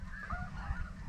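Geese honk as they fly in during a snow goose hunt, a few nasal calls overlapping at moderate distance above a low rumbling background.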